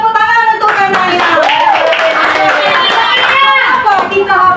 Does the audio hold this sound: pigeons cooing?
no